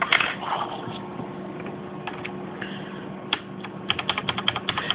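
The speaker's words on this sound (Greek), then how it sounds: "Στην ουσία είναι το πάτημα της βάσης του κουμπιού με την πλακέτα κάτω. Αυτό είναι που κάνει όλο το θόρυβο." Cherry MX Red switches on a CM Storm Quick Fire Rapid mechanical keyboard, keys bottoming out against the plate; scattered close clacks, sparse at first, then a quicker burst of sharp presses toward the end.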